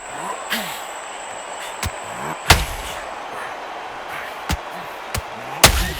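Heavy punches landing in a Sugar Ray Leonard boxing video game, several sharp isolated thuds spaced a second or two apart, the loudest two standing out clearly over a low crowd murmur.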